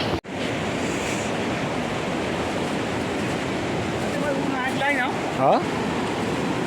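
Loud, steady roar of a rushing swollen river close by, with a brief voice cutting through near the end.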